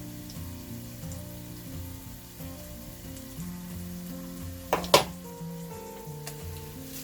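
Two eggs frying with onions in a pan give a soft, steady sizzle beneath quiet background music, broken by a short clatter just before the fifth second.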